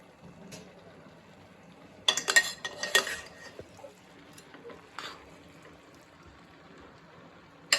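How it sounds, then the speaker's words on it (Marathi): Hakka noodles are tossed with cooked vegetables in a pan, making quiet scraping, then a burst of clattering utensil-on-pan clinks and a few later knocks against a faint background hum. "आता आपण नूडल्स मिक्स करतोय"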